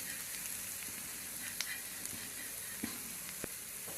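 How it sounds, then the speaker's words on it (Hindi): Onions and a spoonful of flour frying in a pan for an egg curry, a steady soft sizzle throughout with a few faint clicks of stirring, close and fairly quiet. "अब प्याज को तब तक भूनेंगे जब तक कि मैदे की अच्छी तरह से खुशबू नहीं आ जाती"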